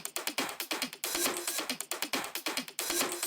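A dense, crackly percussive loop with rapid clicking hits and noisy bursts in a quick, uneven rhythm, fairly quiet and close.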